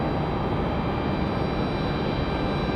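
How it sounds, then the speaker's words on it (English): A Delta airliner landing at Raleigh Durham International Airport gives off a steady, broad jet engine roar that neither rises nor fades, heard from a distance with no voices over it. "Looks like we got Delta 29 at 92 from Miami landing over here on the Delta left."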